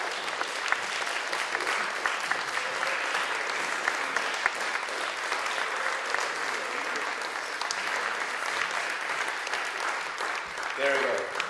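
An awards ceremony audience applauds steadily, a dense wash of many hands clapping at an even level for the whole stretch, with a little crowd noise underneath.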